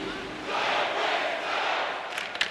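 A simulated hockey arena crowd in an NHL 26 game between Chicago and Calgary roars in a steady, energetic wash, swelling slightly midway, with a couple of faint knocks near the end.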